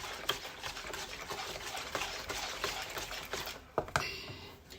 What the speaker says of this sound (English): I'm going to whisk